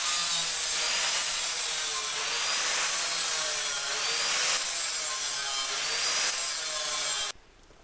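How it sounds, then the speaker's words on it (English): An angle grinder with a flap disc trims metal on a chassis build, making a loud, harsh hiss in several long sweeping passes before cutting off abruptly near the end. "So out with the angle grinder and a flapper disc, and we just trimmed that down a little bit."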